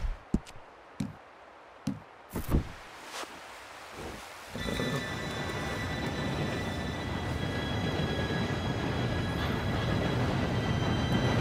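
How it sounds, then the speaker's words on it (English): In Red Dead Redemption 2, a steam train rolls in after a few sharp clicks and knocks, then a continuous heavy rumble of wheels and clanking builds and holds, with faint high squealing tones over the roar. "Train should be here any minute now."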